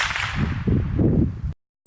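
An Evanix Monster PCP air rifle firing an 8.4 grain JSB pellet lets off a single loud, sharp, whip-like crack with a noisy rushing tail that cuts off abruptly into silence.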